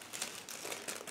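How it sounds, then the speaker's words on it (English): A plastic bag holding the transparent sprue from a 1/35 IBG Models Scammell Pioneer SV2S kit crinkles softly and continuously up close, with a few sharper rustling bursts. "transparent sprue is packed into the separate plastic bag"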